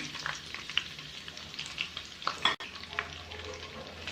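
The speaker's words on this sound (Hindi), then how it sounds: "अब हम इसे कम से कम 1 मिनट सौते करेंगे। लो टू मीडियम फ्लेम पर हम इसे सौते करेंगे।" Diced capsicum sautés in a pan over a low-to-medium flame, with a soft sizzle and faint, irregular spatula scrapes and clicks, close but quiet, with no talk.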